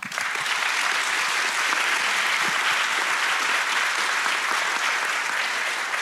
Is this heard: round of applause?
yes